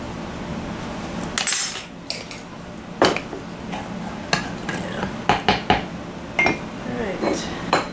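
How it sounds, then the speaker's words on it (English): Metal spoon clinks and scrapes against a pot while salt is stirred into baked beans, with irregular taps and knocks over a low background hum. "I'm going to add 1/2 teaspoon of salt and stir that in a little bit"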